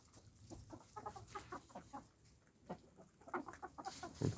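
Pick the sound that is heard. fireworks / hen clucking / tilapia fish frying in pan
hen clucking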